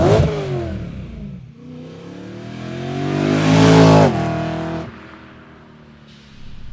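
BMW E92 M3 fitted with a Magnaflow exhaust revving hard up close, the engine note climbing to a loud peak, then snapping off and settling back to idle, with a deep exhaust tone.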